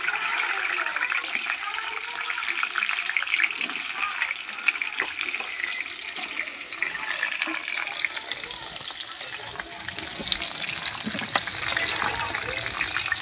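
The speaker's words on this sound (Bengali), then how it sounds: "এই যে তেলটা আমার গরম হয়ে গেছে, এবার আমি এই আলুগুলো দিয়ে দেবো।" Potatoes drop into hot oil and fry with a continuous, even sizzling hiss that stays loud and close throughout.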